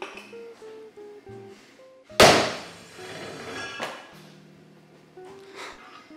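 A 4-pound dead blow hammer strikes a 100-pound anvil once, a single loud, sharp impact that rings and fades amid quieter background sounds.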